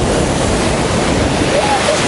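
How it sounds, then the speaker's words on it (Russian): Strong stormy sea waves crashing at Cape Vidny near Khosta, Sochi, in December, a loud continuous roar of surf and foam with heavy wind rumble, close and steady throughout. "Смотрите, какие сильные волны."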